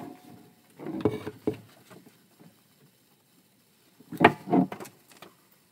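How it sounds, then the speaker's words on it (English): Door in the background of a house, heard as two separate bursts of knocking and thudding, one early and one near the end, faint to moderate, with quiet room tone between them. "You might hear a door in the background."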